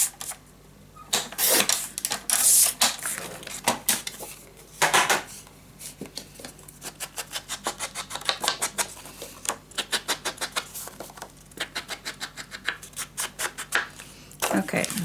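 Paper being cut for a scrapbook suitcase mini album: a long series of close, crisp snips and rustling slices in quick rhythmic runs, with brief pauses and a voice speaking now and then.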